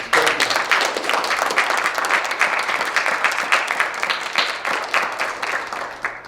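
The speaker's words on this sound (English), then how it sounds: "Give your directors an even bigger round of applause for getting this." A room at a high school jazz band session breaks into loud, sustained applause for the band directors, dense clapping from many hands that holds steady before tapering slightly at the end.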